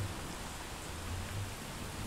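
Rain ambience from a soundboard: an even, steady hiss of falling rain with a low rumbling undertone, constant and unbroken with no voices.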